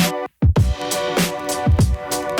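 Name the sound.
squeaky toy pickaxe hit, video game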